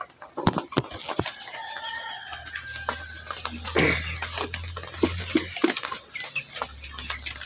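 Chickens cluck and squawk close by while being fed rice bran, with scattered pecking and scratching, a low background hum and occasional splashy sounds.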